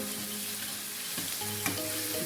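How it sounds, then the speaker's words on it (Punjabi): Tomatoes and onion masala frying in a pan for Punjabi kadhi, a steady close sizzle with a couple of brief stirring scrapes and no voices. "ਟਮਾਟਰ ਨੂੰ ਆਪਾਂ ਚੰਗੀ ਤਰ੍ਹਾਂ ਭੁੰਨ ਲੈਣਾ ਹੈ"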